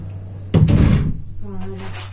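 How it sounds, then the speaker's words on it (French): An indoor door swings shut with a single solid thud and brief rumble, close by, over a steady hum of a running craft machine, followed by faint movement. "Je vais fermer la porte parce qu'on entend la machine."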